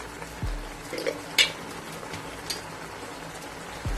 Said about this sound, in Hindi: मैंने 5 मिनट इसको अच्छी तरीके से घी में इसको फ्राई किया है कीमे को।